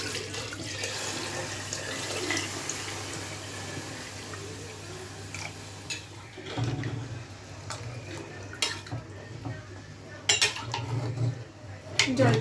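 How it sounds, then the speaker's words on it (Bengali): Water runs from a tap and is poured into a pot of beef nehari being cooked at home, with splashing, clinking of metal pans and utensils, and some background voices throughout. "আমি জল দিয়ে দিচ্ছি।"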